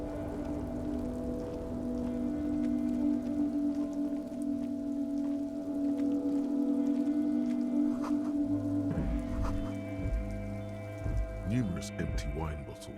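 Steady rain patters across a surface in the video game Disco Elysium, a constant wet hiss under tonal ambient music, with a few soft splashy footstep-like sounds near the end.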